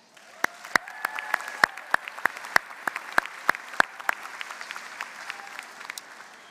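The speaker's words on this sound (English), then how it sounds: "please give yourself one more round of applause" Applause from a graduation convocation crowd, with sharp individual claps standing out over a dense, steady wash of clapping that carries on for several seconds.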